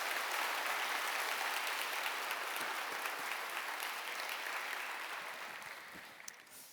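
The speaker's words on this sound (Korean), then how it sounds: "우리 한번 크게 박수로 환영하실까요" A church congregation at a Korean open worship service applauds a choir after a hymn, a broad wash of clapping that starts full and gradually fades toward the end.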